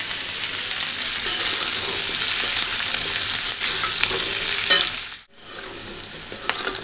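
Vegetables sizzle and crackle steadily in a hot pan, with scraping stir strokes heard close by, and a brief dip near the end before the frying continues.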